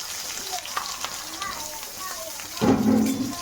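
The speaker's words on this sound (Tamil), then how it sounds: "நல்லா இந்த வெங்காயம் வடகம்லாம் நல்லா வதங்கணும்" Chopped onions and vadagam fry in a pan for seela fish kulambu, giving a steady rain-like crackle with faint ticks, swelling into a louder, fuller sizzle near the end.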